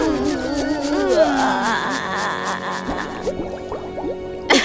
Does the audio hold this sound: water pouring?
yes